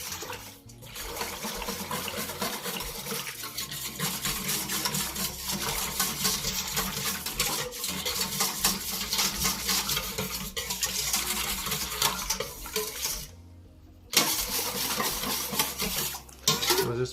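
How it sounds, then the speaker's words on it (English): Spoon stirring brown sugar and honey together in a bowl, a continuous close scraping and swishing that runs steadily with a brief pause near the end. "We'll just mix it until we don't see honey at the bottom"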